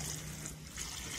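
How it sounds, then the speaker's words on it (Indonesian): Running tap water pours steadily over cashew nuts being washed, a close, continuous splashing trickle with no voices. "atau dengan air mengalir seperti ini"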